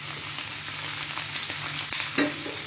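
Onion, garlic and green chilli frying with cumin seeds for okra bhaji, a dense continuous sizzle with light stirring clatter and a spatula knock near the end, close and unaccompanied by speech.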